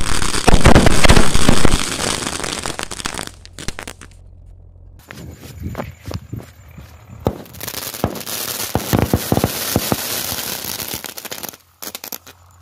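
Fourteen 7-shot sky shot firecrackers fire one after another outdoors in a long, loud run of sharp bangs and crackling bursts, uneven and overlapping, with a brief quieter gap partway and no talking.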